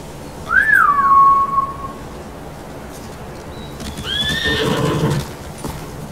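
Two horses whinny in the video game Ghost of Tsushima, with high, wavering neighs, one near the start and another a few seconds later, over a steady low background rumble.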